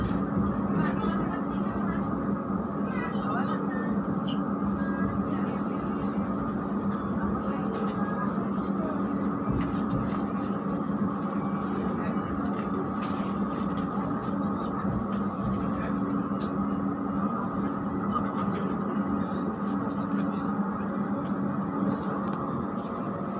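Train pulling into Yogyakarta railway station in Indonesia, a steady loud rumble of rolling wagons and wheels on track that holds evenly throughout, with an announcement-like voice faintly woven into the din.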